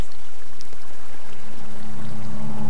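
A Minecraft water stream runs steadily around the outside of a villager-carrying channel, giving a constant rushing, pouring wash with no talk.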